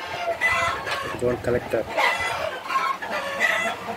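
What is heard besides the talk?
hen clucking after laying an egg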